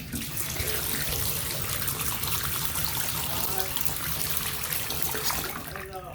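Water rushes steadily from leaking plumbing after being turned on, a continuous loud splashing and spraying flow close by that eases slightly at the end.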